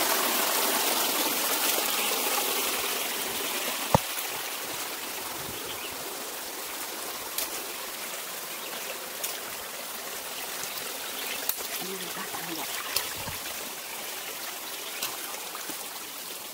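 Steady rush of flowing stream water near a waterfall on a hiking trail, continuous and fairly loud, with occasional small clicks and splashes on top.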